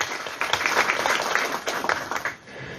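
An audience at a morning talk on preventing adolescent pregnancy gives warm applause to welcome a hospital doctor. Many hands clap in a busy, even patter for nearly three seconds before it thins out. The sound is fairly close and carries no speech.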